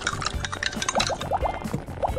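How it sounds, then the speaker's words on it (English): Leftovers are stirred in a pot of water in a stop-motion kitchen, producing quick clinking and scraping taps mixed with liquid sloshing in an uneven rhythm, close and moderately quiet. "Mix it all up and stir well."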